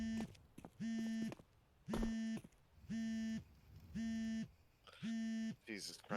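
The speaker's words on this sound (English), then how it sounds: "The phone alarm going off." Repeated electronic alarm beeps from a phone during a CS2 ESEA esports match broadcast, six evenly spaced buzzing tones about half a second each, fairly loud, with commentators talking underneath.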